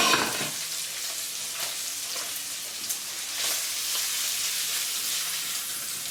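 Smoked bacon lardons brown in a frying pan with a continuous crackling sizzle. A sharper burst comes at the start, then steady spitting and popping follows throughout. There is no talk.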